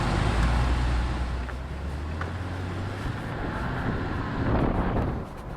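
A 2020 Jeep Gladiator Overland's engine restarts after an automatic stop-start shutdown, a loud low rumble that swells at the start, then settles into a steady idle drone with road traffic around it.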